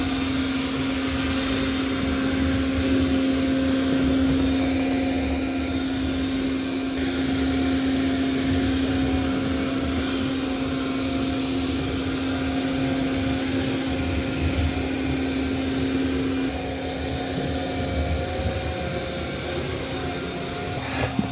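A Roborock Qrevo Edge robot vacuum and mop works through mud, a steady, close whirring drone with a constant pitched hum that holds for about sixteen seconds and then eases slightly, with no talking.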